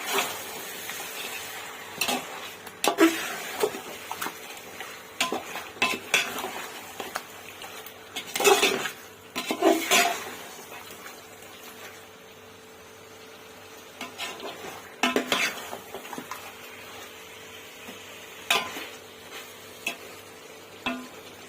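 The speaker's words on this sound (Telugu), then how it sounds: "ఒకసారి మిక్స్ చేసుకుంటున్నాను." A spoon scrapes and stirs through chicken biryani in a pot, soft intermittent clanks and scraping strokes with a faint sizzle between them, no talk.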